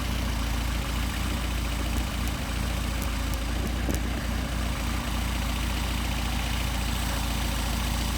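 A Mercedes 190SL on Solex carburetors idles at 700 to 750 rpm, a steady, even, low engine drone that holds without change throughout.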